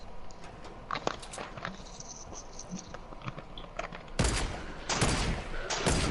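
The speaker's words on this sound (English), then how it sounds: "Is that you shooting?" Assault rifle with scope fired in a video game, several sharp bursts of gunfire, a couple of them loud and close toward the end, with softer clicks and game noise between.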